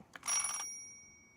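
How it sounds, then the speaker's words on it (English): A video game telephone rings once in a quick, bright electronic trill lasting about half a second, then rings out into quiet. "Oh, you got a phone call"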